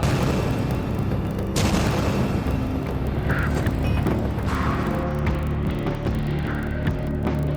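A deep, heavy bomb blast in a busy city market booms through continuous low noise, with a sharp burst partway through and lingering rolling reverberation.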